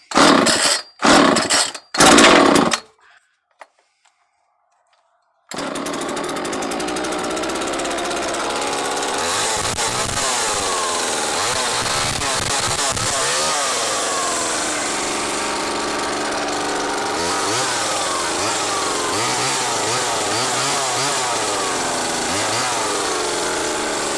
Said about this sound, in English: One of those things about these types of Homelite chainsaws